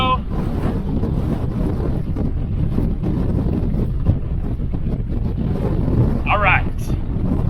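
Strong wind buffets the microphone in a steady, loud roar aboard a boat at sea off Greece, with water rushing beneath and a brief higher whistling near the end.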